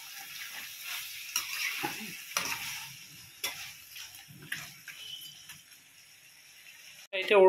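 Goat head meat curry with tomato simmers in a pan, giving quiet bubbling and soft sizzling with light spoon clicks and scrapes. A louder knock comes at the very end.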